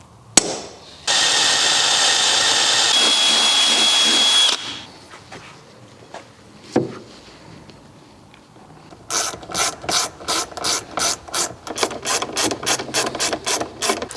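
A power drill whines steadily for a few seconds, then after a pause a ratchet clicks in a rapid, regular series as bolts are driven into mounting holes on a Defender, loud and close.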